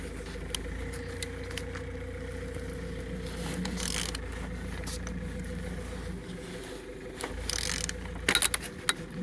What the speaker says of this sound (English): today we start turning your engine